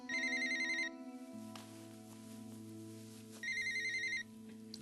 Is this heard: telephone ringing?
yes